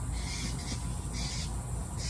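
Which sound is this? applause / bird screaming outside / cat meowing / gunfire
bird screaming outside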